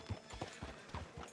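Horse hooves clip-clopping at a steady trot in Red Dead Redemption 2, regular hoof strikes roughly every fifth of a second, fairly close and clear with low ambient background and no speech.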